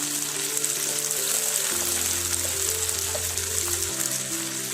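Curry leaves and potatoes fry in hot oil with a steady, dense sizzle and crackle, loud and close, holding evenly throughout with a faint low hum underneath.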